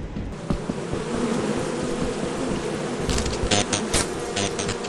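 Bees drone in the video game Lethal Company, a steady close buzzing hum under crackly noise with a few sharp clicks near the end, no talk.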